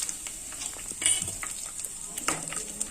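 Cloves, two cardamom pods, cinnamon and bay leaf drop into hot oil for a mutton fry, giving a steady close hiss with a few light clinks and stirring scrapes.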